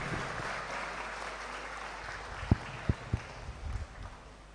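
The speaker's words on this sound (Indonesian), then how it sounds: "sekali lagi tepuk tangan yang meriah untuk Bung Rocky Gerung dan Pak Diki Amar" An audience at a philosophy lecture by Rocky Gerung claps in a diffuse, moderately distant round of applause, with a few sharper knocks and thumps near the end as it fades.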